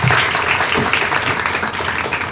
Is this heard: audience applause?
yes